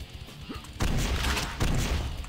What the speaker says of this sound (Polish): rakietnice obok nich wybuchają